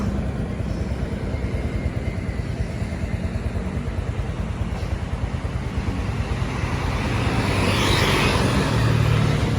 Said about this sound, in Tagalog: mapapansin nyo sobrang daming dumadaan dito mga sasakyan